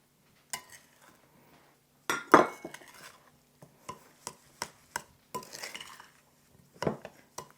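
Rice pudding ingredients, including sugar, being mixed in a bowl: quiet, scattered utensil clinks and scrapes in a near-silent kitchen, with no speech.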